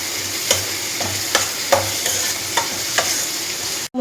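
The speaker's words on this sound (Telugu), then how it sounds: "హై ఫ్లేమ్లో పెట్టుకొని వేపుకోవాలన్నమాట." Okra pieces fry on high flame in a pan with a steady, dense sizzle, while a spatula taps and scrapes through them every half second or so. A sharp clatter cuts in at the very end.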